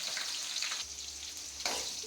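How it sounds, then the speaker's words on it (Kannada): Onions fry in hot oil with a steady, soft sizzle, broken by a couple of brief scraping stirs, quiet and close with no voices. "ಈರುಳ್ಳಿ ಸ್ವಲ್ಪ ಫ್ರೈ ಆದರೆ ಸಾಕು"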